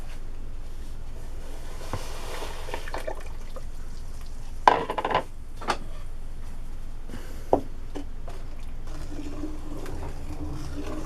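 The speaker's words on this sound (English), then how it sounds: "Mix it until it's dissolved." Washing soda is stirred into liquid for a DIY heavy-duty hand soap, with soft swishing and a few sharp scrapes and clinks against the container.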